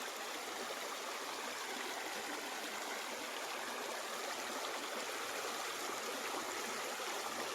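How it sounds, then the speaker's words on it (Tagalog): A river or stream running along the boundary of a farmland lot flows steadily with broadband rushing water, constant and fairly close, no voices. "Ilog o sapa"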